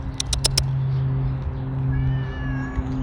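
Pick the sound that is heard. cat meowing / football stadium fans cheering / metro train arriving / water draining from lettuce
cat meowing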